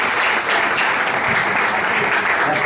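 A room full of people applauds loudly and steadily, a dense wash of clapping that holds throughout without talk.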